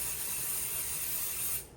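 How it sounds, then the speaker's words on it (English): A continuous aerosol basting spray for embroidery hisses close up for under two seconds, then cuts off abruptly. "we're going to use the basting spray."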